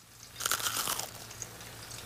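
Crispy buttermilk onion rings crunch loudly as someone bites in, a dense burst of crackling chews lasting about half a second before fading into softer chewing, with no talk.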